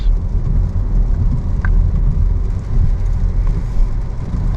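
An Audi Q4 electric all-wheel-drive car taking a corner, a steady low road rumble and tyre noise heard from inside the cabin, loud and continuous with no talking.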